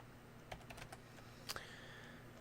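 Typing on a computer keyboard: a short burst of quiet, close key clicks, a handful of taps in quick succession followed by a couple of slightly louder strikes, over a faint steady hum and with no talk.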